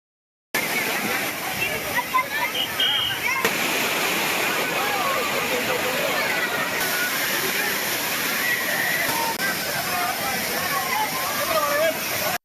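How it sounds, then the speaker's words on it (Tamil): Water pouring steadily at Thirparappu waterfall, a busy tourist spot where crowds bathe under a moderate flow, giving a continuous loud rushing wash with splashing and faint voices mixed in. "திற்பரப்பு அருவியில் குவிந்த சுற்றுலா பயணிகள் மிதமாக கொட்டும் நீரில் ஆனந்த குளியல் போட்டனர்"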